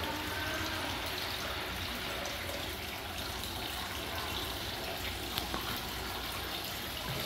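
Water runs steadily from a tap in a beach toilet, a continuous low hiss and gush that stays even and fairly quiet throughout, with no talking.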